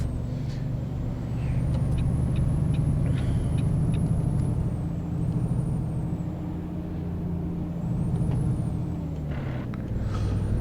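A Kenworth T600 truck in American Truck Simulator, with a deep diesel engine drone that rises and falls as the truck slows, plus high whining tones and occasional brake and air hisses, all fairly loud and constant.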